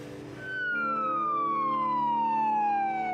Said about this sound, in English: Another ambulance on its way to try to save another life.